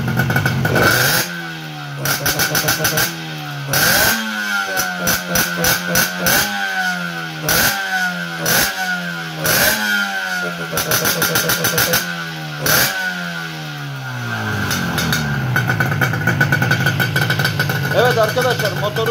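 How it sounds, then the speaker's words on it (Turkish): A twin-setup moped engine revved repeatedly with the throttle, loud and close, climbing in sharp bursts then dropping back, about a dozen blips in a row before settling into a rough idle. "Evet arkadaşlar motorun gaz işini gördünüz."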